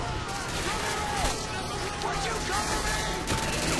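Rapid gunfire crackles in Modern Warfare 2, dense bursts of shots running continuously at a steady loudness over game sounds, with a voice faintly present.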